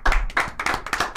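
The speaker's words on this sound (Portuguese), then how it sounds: "Os nossos aplausos aqui para o nosso surfista." Applause from a small group on a live Brazilian podcast, honoring a surfer who has died: a short burst of several close, distinct claps in an uneven rhythm, with no talking over it.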